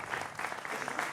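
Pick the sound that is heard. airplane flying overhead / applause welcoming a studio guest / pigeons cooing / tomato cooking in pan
applause welcoming a studio guest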